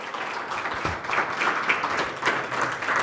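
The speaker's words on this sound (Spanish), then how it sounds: "Dale un aplauso fuerte al Señor." A church congregation claps loudly together, a dense, continuous burst of applause lasting the whole moment with no pause.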